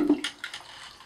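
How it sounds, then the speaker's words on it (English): Water poured by hand into a sump pump test setup, a brief splashing pour of about a second, close and moderately loud, with no voices. "I'm going to go ahead and pour water in."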